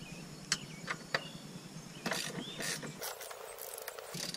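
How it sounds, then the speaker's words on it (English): A ratchet wrench tightens the chain adjuster on a Yamaha TTR 125 dirt bike, giving a couple of sharp, separate clicks and then a run of quicker, close-up ratcheting clicks with no talking. "Grab our wrench here."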